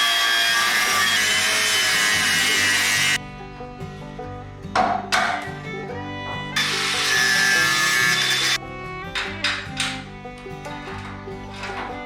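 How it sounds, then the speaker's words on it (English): A grinder or cutting tool slicing off a damaged, stripped nut on a car chassis, running in two long loud bursts separated by a shorter quieter scraping stretch, with no talking. "I'll cut that nut off for a start and then see where we go from there"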